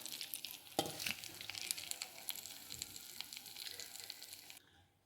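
A fish head sizzles and spits in hot oil in a pan, with dense crackling and occasional stirring clicks, loud and close, before the frying noise cuts off near the end.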